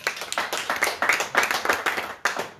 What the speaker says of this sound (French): dont on peut l'applaudir également